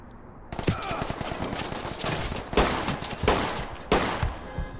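Gunfire in the tactical shooter game Ready or Not, loud sharp shots in several bursts, one opening volley followed by three quick separate cracks, with a faint room-like tail after each.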